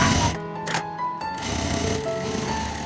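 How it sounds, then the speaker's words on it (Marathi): A sewing machine runs steadily, double-stitching a homemade shela cloth for a Ganpati idol, a continuous mechanical whir with brief pauses near the start, close and moderately loud. "आता डबल शिलाई मारूया"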